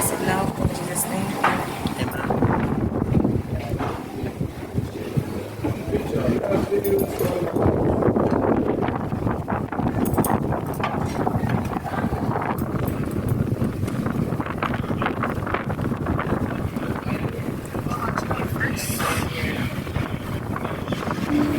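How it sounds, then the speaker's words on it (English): Gusty wind roars steadily across the microphone outdoors at a seaside restaurant deck in Morant Bay, Jamaica, a continuous loud rumbling buffet with voices talking underneath. "please excuse the windy background as well"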